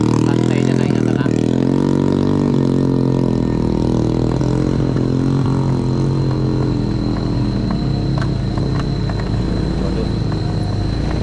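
A motorcycle engine drones steadily and loudly while climbing a hill on a new coastal road in southern Solok, holding a constant throttle with a smooth, unbroken rumble throughout.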